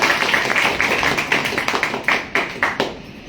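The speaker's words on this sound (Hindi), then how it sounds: "तो मैं चाहूंगा आईएमसी के लिए एक जोरदार ताली।" Applause for IMC at a business meeting, a crowd clapping in a steady patter for about three seconds, with individual claps growing more distinct and sparse toward the end.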